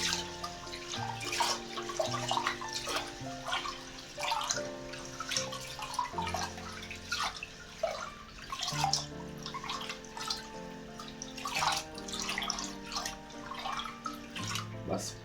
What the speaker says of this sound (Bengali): চালটা নর্মালি 2 থেকে 3 বার ধুইতে হয়, সুন্দর করে এভাবে